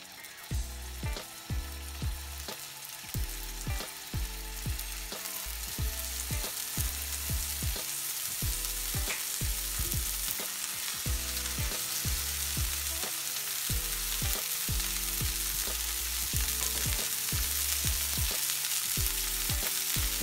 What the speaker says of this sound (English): We're searing the steaks.